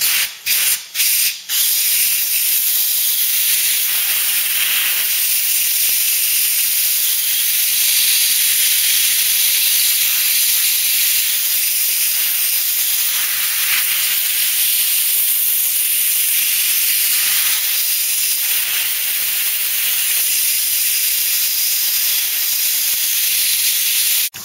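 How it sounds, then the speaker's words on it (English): Compressed air line blasts grime out of a starter motor from a Ford Cortina MK3 GXL under restoration, a few short bursts followed by a long, loud, continuous hiss close to the microphone. "Blast the rest of that muck out of there."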